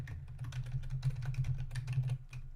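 Quiet, rapid clatter of keys as a web address is typed on a computer keyboard, a brisk run of light clicks with brief pauses, with no speech.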